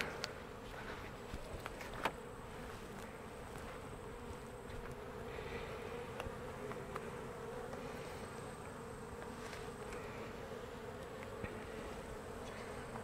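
Honeybees hum steadily around an open hive, a dense continuous buzz of many insects close by, with a few faint clicks of hive handling and no talk.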